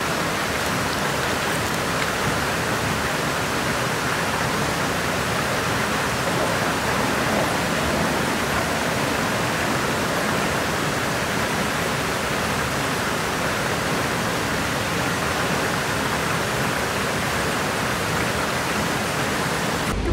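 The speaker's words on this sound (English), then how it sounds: "Goodbye, beautiful waterfall." A waterfall on a forest trail in Kauai, Hawaii pours steadily, a dense, even rush of falling water filling the whole stretch without pause, close and loud with no voices.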